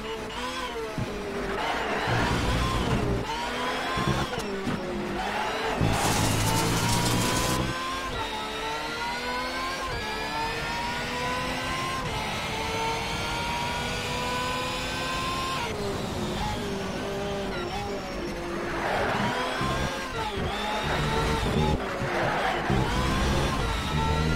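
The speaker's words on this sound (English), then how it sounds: "as you can hear, the engine sounds really nice" Car engine revving and accelerating, heard from the interior view of a modded car in the racing game Shift 2 Unleashed, a steady loud engine drone with rising and falling pitch sweeps throughout, no talking.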